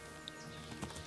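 Horse hooves clip-clop faintly in the video game Kingdom Come: Deliverance as a summoned horse approaches, a few soft hoof knocks against a quiet background hum.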